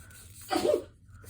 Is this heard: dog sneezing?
yes